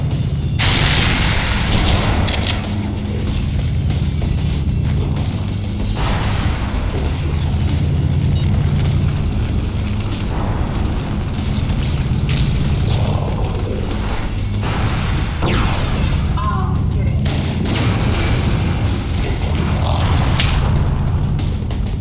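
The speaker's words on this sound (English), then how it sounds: "That should be enough to trigger a wildcat explosion of the engines." Continuous heavy booming and rumbling explosions of alien ship engine reactors in the game Halo: Combat Evolved, dense and loud throughout, with layered blasts and crackling over a deep roar and no voices.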